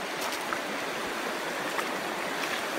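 River water flows and burbles steadily around someone wading in shallow rocky pools, a continuous close wash with small splashes and no voices.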